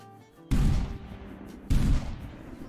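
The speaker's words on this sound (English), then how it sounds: "Let's go ahead and take a couple shots with this." Two loud, booming shots from a 12 gauge Beretta over-and-under shotgun in the hunting game Hunting Simulator 2, each a sharp blast followed by a long rolling decay, spaced about a second apart.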